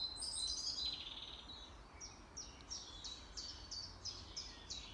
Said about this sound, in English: the birds are singing, and all is peace with the world